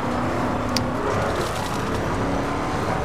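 A car in The Crew Wild Run beta on PC drives along rough, slippery terrain near a river, its engine a steady, loud drone that holds without a break.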